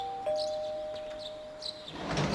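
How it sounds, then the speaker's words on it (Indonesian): A doorbell chime sounds in the video game Persona 4 Golden, a sustained electronic tone ringing for over a second. It sits over a quiet background, with a soft thunk at the start and some louder noise at the end. "Kenapa ada suara bel tadi?"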